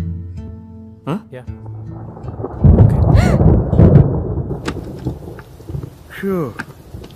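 Rain and thunder in Hyderabad: low rolling thunder rumbles swell in the middle of the scene over steady rain, with voices speaking and calling out around it.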